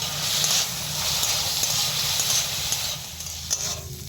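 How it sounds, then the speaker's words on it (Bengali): Grated ginger and chopped green chilli are stirred into a paneer cutlet mix, a steady scraping and mixing texture with a faint sizzle-like hiss and a few soft knocks. "এবার আমি এটাকে ভালো করে মিশিয়ে নেবো"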